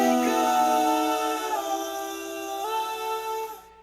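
Layered 1970s-style background vocal harmonies on a song's last line, sustained sung tones gliding between held pitches, close and clear, fading out at the end.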